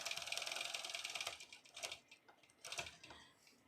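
A long arm quilting machine runs in bursts of rapid, buzzing stitches with brief stops and starts, loud and close.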